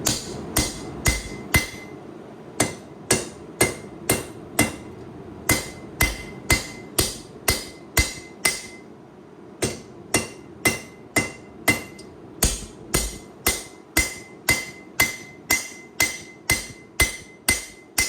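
A hammer strikes steel while forging a drop point knife blade in PKV steel: a steady run of sharp, ringing blows with brief pauses, close and clear, with no talk.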